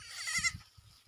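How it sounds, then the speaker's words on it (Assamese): A young goat kid bleats on a pasture where its mother grazes nearby, giving one short wavering cry, moderately close, followed by faint rustling and quiet low thumps. "সেইটো ছাগলী পোৱালিটো আহিছে"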